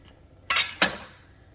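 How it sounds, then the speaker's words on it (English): A kitchen knife scores a sausage diagonally on a cutting board, making two quick, close scraping cuts about a third of a second apart against a quiet background. "To prep the sausage, I'm just going to score it kind of diagonally across the surface of the sausage."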